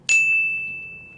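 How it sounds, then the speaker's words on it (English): A notification bell sound effect strikes once, a bright clear ding that rings on and slowly fades over about a second. "make sure to turn on the post notification bell"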